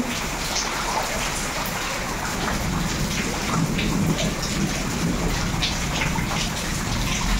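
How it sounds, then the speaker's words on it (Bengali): Rain falls steadily and fairly loudly, a constant rushing patter with no voices, holding at the same level throughout. "সকাল থেকে বৃষ্টি"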